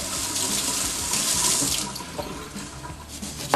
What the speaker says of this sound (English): Wash this lemon really good.